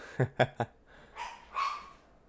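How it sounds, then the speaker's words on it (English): Three quick, sharp dog barks in a row, followed by a couple of softer whining yips, fairly close by. "Lucy is barking."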